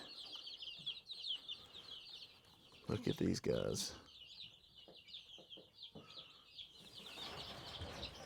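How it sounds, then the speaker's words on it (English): Large, growing farm turkeys give clucking fowl calls, with a louder flurry of wing flapping partway through. A steady high chirping runs underneath, and a person talks over the birds. "Them turkeys are getting big."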